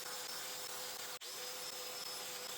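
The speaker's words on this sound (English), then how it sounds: "Each rail needed a domino on the top and bottom, so to cut 2 mortises in each one." A domino joiner cuts mortises into redwood gate rails, a steady high motor whine heard close with one abrupt cut-out and restart partway through, no talking.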